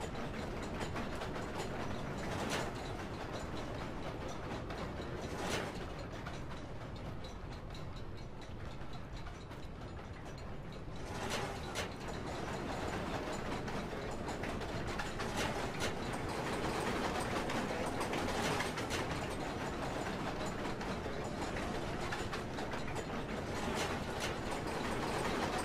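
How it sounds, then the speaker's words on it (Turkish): A noisy lever-driven machine in Amnesia: The Dark Descent grinds and rattles continuously, with a dense mechanical clatter and periodic heavier clanks recurring every few seconds, loud and sustained with no voices. "İki kol gürültülü makineyi hareket ettiriyor."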